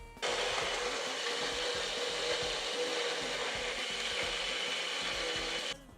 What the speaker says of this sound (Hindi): अब सारी चीज़ें डालने के बाद इसे अब हम मिक्सी में डाल के अच्छे से पीस लेंगे।